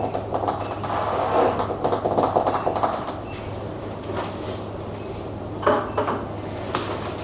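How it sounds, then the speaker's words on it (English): Clinking and tapping of glass jars as metal lids are put on, a series of short clatters and knocks close by, with a steady low hum underneath. "now all that I do is I just put all the lids on"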